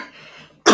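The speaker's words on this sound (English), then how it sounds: "sorry for that. I'm having cough." A single sharp, loud cough bursts out near the end after a stretch of quiet background hiss.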